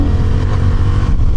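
Honda Hornet 750 motorcycle engine while riding, a close, steady engine drone with faint wind, heard for a moment with no talk.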